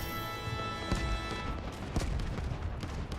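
Steyr AUG rifle gunfire in the shooter Delta Force, several sharp, heavy reports ringing out over a busy background of distant explosions and battle noise, each shot loud but somewhat blended into the din.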